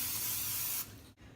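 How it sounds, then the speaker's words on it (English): Olive oil cooking spray hisses steadily onto a non-stick pan for most of a second, loud and close, then cuts off into a quiet kitchen with a brief dip at the end. "It's just an olive oil spray pan"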